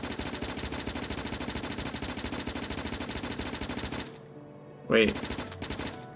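Automatic gunfire from the video game Factorio, modded with Krastorio 2, rattles in a rapid, continuous burst for about four seconds, then stops, and a voice briefly speaks.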